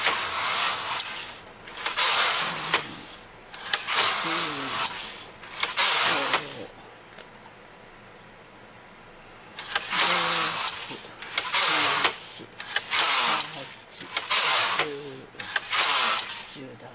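Silver LC560 electronic knitting machine knitting plain rows: loud, close carriage passes sweeping back and forth, each a rushing, clattering burst of a second or so, with a quiet stretch between runs.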